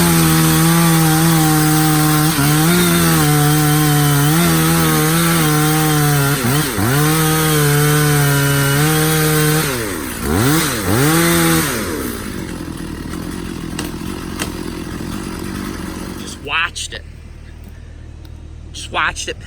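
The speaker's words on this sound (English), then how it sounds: "A halt in the road where I actually need to use the chainsaw." A chainsaw cuts dead ash wood at a creek-side clearing, loud and close with a sustained engine whine that dips under load several times before it stops, followed by quieter thumps.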